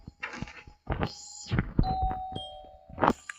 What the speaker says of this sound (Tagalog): So, atong i-doorbell.